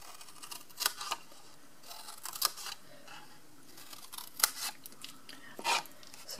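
Scissors cut through card in a few quiet, separate snips with short pauses between them, close and alone with no talk.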